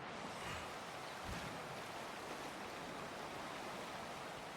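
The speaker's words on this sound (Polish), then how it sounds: "Musimy dojść pod wodospad." A waterfall in the game Dying Light The Beast pours down as a steady, dense rushing roar that stays loud and unbroken throughout, with no voices.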